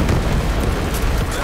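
A grenade blast in the video game Black Ops 6 at close range, a loud, dense roar of noise that fills the whole moment.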